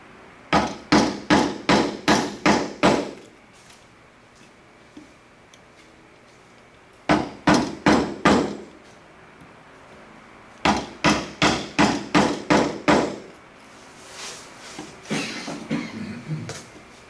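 Mallet blows drive a chisel into the waste of a hand-cut wooden dovetail, sharp knocking strikes in quick bursts of five to eight, pausing between groups, close and fairly loud.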